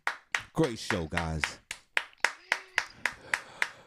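Hands clap in a steady rhythm, roughly three sharp claps per second, close and crisp on a morning show, while people talk over the first part of the beat.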